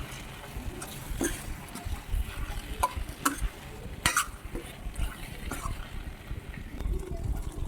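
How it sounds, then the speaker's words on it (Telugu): A spoon stirs turmeric into a tomato and cucumber (dosakaya) curry in a pan, giving soft scraping sweeps and a few sharp clinks against the metal under a faint sizzle. "పసుపు వేసుకొని కలపెట్టుకోవాలండి"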